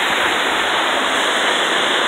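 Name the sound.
Kaaterskill Falls waterfall in the Catskills, New York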